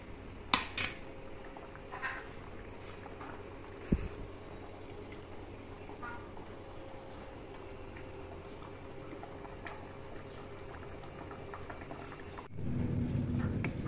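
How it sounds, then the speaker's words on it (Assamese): A pot of green-leaf anja curry bubbles at a low, steady simmer, with a few sharp clinks of a utensil against the pot early on and a louder rush of boiling near the end. "এতিয়া আঞ্জাখন মই উতলিবলৈ দিম প্ৰায় 10-15 মিনিট"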